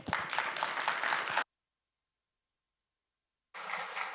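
An audience at a National Native American Heritage Month ceremony claps, a dense patter of applause that cuts off abruptly, falls silent for about two seconds, then resumes.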